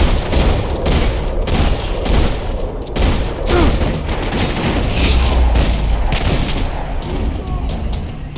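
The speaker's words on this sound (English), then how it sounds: "Another parking lot rattling with gunfire." Dense, continuous gunfire rattles throughout a Max Payne 3 parking-lot scene, heavy bursts layered with booms and a low rumble, loud and close.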